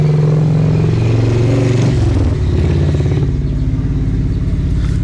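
A motorcycle passes outside, a loud low engine drone and rumble that shifts in pitch midway as it goes by, filling the whole stretch with no speech.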